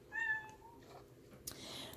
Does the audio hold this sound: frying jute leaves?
no